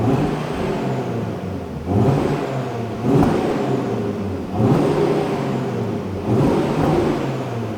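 An Audi RS3 8Y engine on stock exhaust, valves unplugged, revving repeatedly, rising and falling in four or five steady cycles with a whirring, throaty tone, more intake noise than exhaust, heard nearby.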